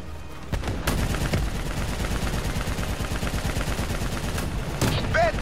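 Dense automatic gunfire and explosions in the Call of Duty: Black Ops III campaign, continuous close rattling bursts with heavy booms throughout and shouted voices mixed in.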